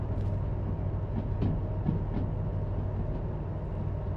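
A locomotive at a railway museum pushes freight wagons to be loaded with machine parts: a steady, loud rolling rumble with faint, scattered wheel clicks throughout.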